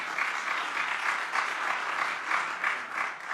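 Steady audience applause following a speech at a European conference, a dense even wash of many hands clapping at moderate loudness, alone without voices.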